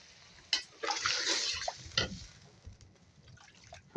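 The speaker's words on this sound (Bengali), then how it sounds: "এখন চলে যাবে পরিমাণ মতো জল।" Water poured into a pot of chicken curry as it cooks, a broad splashing rush from about half a second to two seconds that then thins to faint trickles and drips, with no talking.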